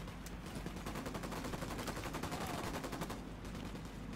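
Rapid automatic gunfire from the video game Ghost Recon Wildlands, dense and continuous bursts of shots layered under a steady roar of game ambience, loud and close throughout.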